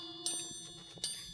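Triangle in a 1970s children's party song: two bright metallic rings, about three quarters of a second apart, each leaving a sustained high shimmer, soft and alone.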